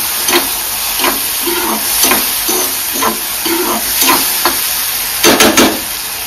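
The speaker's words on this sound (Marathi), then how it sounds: "आणि जी मटकी शिजवली होती ती सुद्धा टाकून घेते। व्यवस्थित परतून घेणार आहोत आपण।" Cooked moth bean sprouts (matki) being sautéed in a pan, continuous loud sizzling broken by repeated scraping stirs at a roughly one-second rhythm.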